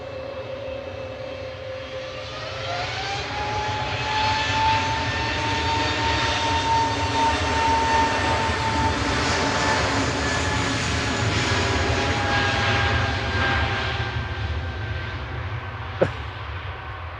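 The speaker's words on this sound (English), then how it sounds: "A320neo TTND heading down to London Heathrow now with Shuttle 3 Yankee operating flight 1385." An Airbus A320neo, registration TTND, departs Manchester for London Heathrow, a steady loud jet roar with a rising whine building over several seconds, sustained throughout and close by.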